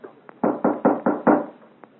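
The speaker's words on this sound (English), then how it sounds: "there is an unmistakable arrogance in their knock" A firm, deliberate knock on a door in an audio drama: about six close, loud raps in a quick, even rhythm, bracketed by a couple of lighter taps, with no voices.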